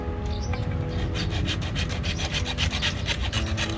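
Steady rhythmic rasping of a hand saw cutting through wood to make a fish trap, close and continuous with quick repeated strokes.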